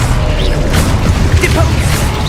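Dense, loud burst of magical combat from the Hogwarts Legacy video game as a Confringo fire spell blasts, a continuous roar of crackling impacts and effects with a voice shouting over it.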